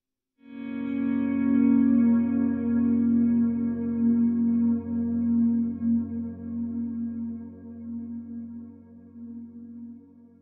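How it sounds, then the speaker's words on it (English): An electric guitar chord swells in through a volume pedal with reverb and delay from a TC Electronic Plethora X5, blooming from silence into a sustained ambient drone that slowly fades, with no one talking. "If I turned reverb on and then use a swell in with the volume pedal, this is how it sounds."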